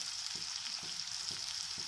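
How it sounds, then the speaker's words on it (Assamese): Potatoes fry in a pan with a steady, fairly quiet sizzle, broken by a few soft stirring knocks at a regular pace. "এতিয়া আমি প্ৰথমতে আলুখিনি ধুনীয়াকৈ ভাজি লওঁ।"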